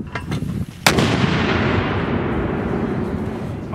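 A Ranger Fire Support System mortar fires a single round outdoors, a sharp close blast followed by a long rolling boom that fades slowly, preceded by a few faint knocks.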